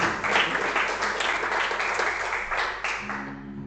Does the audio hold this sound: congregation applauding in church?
yes